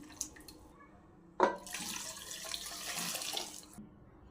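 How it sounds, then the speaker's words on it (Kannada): Lentil cooking water splashes as it is poured into a pressure cooker for bottle gourd sambar, a sudden close gush that settles into a steady, bright stream for about two seconds before stopping. "ಬೆಳೆ ಮೇಲಿನ ನೀರನ್ನು ಇದರಲ್ಲಿ ಹಾಕಿ ಮಿಕ್ಸ್ ಮಾಡ್ಕೊಂಡು ಇದರಲ್ಲಿ ಹಾಕೊಳ್ಳೋಣ"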